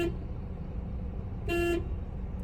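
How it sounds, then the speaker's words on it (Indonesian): A car horn gives one short toot, held for about a quarter second, over a steady low hum of traffic and engine noise. "Cara penggunaan klakson yang benar adalah menekannya secara singkat,"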